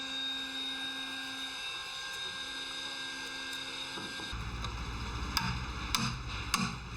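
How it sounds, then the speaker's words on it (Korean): A power tool shapes the shoulder of a wooden crossbeam at a hanok restoration site at Changdeokgung palace: a steady whine turns partway through into louder, rough grinding with sharp bursts near the end. "지금 깎고 있는 것이 바로 주두에 올려지는 대들보의 어깨인 셈이다."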